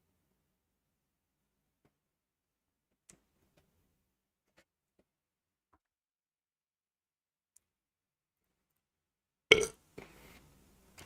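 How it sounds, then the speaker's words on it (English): A single loud, close burp from a man bursts out after a long near-silent stretch broken only by a few faint ticks and clicks. "I live alone, so I'm used to just burping freely."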